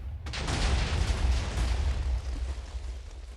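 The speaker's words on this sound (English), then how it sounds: "It just made a pretty firework." A TNT cannon fires in Minecraft with a sudden sharp onset and a sustained rumbling, crackling blast that rolls on loudly for about three seconds before slowly easing, with no voices.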